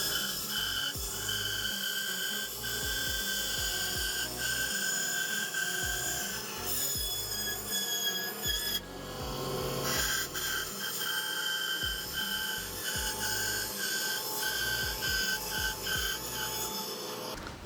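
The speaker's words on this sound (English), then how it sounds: "I'm going to go ahead and use a bandsaw because that's what I have at my disposal." Bandsaw cutting through wooden boards for woodworking, a continuous whining blade with rasping chatter as wood feeds through, steady and fairly close with brief changes in pitch.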